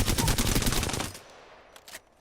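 The Alternator submachine gun in Apex Legends fires a rapid, loud automatic burst for about a second, then cuts off, followed by quieter clicks and handling sounds.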